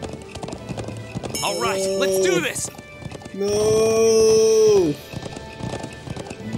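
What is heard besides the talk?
horse galloping hooves in video game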